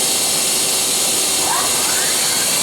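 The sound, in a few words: Mazak QTN 100ii CNC lathe main spindle running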